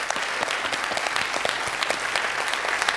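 Steady, dense applause from a television quiz-show studio audience cheering contestant Christophe on Questions pour un champion, continuous and fairly loud for the whole stretch with no voices over it.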